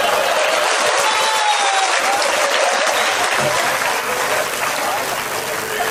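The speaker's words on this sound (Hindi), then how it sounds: "सांस लेना है ताली बजाओ।" Loud, sustained applause rings out from the audience at a Hindi comic poetry gathering. The dense clapping runs for several seconds and only dips slightly near the end.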